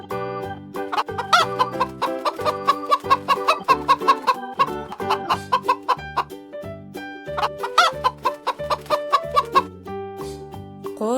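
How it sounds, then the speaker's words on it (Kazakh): A domestic chicken clucks in a steady stream of short, repeated calls, close and clear with no other sounds or talk. "Тауық. Тауықтың балапаны шөже."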